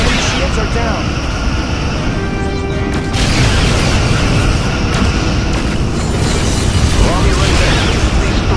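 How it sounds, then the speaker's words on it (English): A Romulan vessel explodes in the Star Trek Legacy video game, a loud continuous roaring blast that fills the whole stretch, with game sound effects layered on top. "Romulan vessel destroyed."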